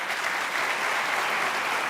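A seated audience at a tourism campaign presentation applauds steadily, a dense, even wash of many hands clapping at moderate volume throughout, with no voices over it.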